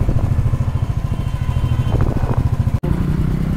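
A motorcycle on the ride from Darjeeling toward Tinchuley thumps along with a steady, close, low engine pulse and some rattle, with no talking.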